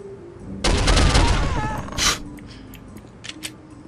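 Machine gun fire in the video game Soldier of Fortune: a loud sustained burst of rapid automatic shots lasting about a second, followed by a single sharp blast and a few fainter impacts.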